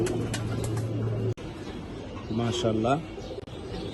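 A pair of silver line pigeons coo in soft, repeated throaty bursts close by, someone speaking over and between the calls.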